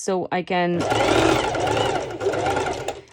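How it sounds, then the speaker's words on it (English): A serger overlock machine runs steadily, stitching a not very slippery fabric for a sporty twisted top, its fast mechanical whir continuing loudly under a speaking voice after a short spoken start. "directly serge it without needing my basting stitch"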